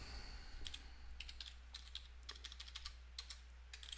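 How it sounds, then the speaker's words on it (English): Quiet keystrokes tapping in irregular bursts on a computer keyboard over a steady low hum, close and faint, with no voices. "If I can type."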